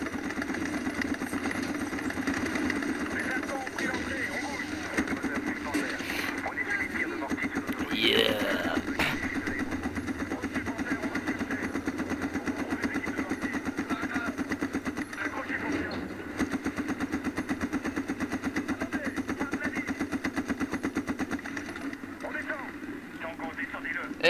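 A steady vehicle engine drones continuously in the 2010 shooter game Medal of Honor, a sustained mid-pitched hum with a faint rattle running under intermittent speech throughout.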